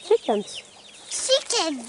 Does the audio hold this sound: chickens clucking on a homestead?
yes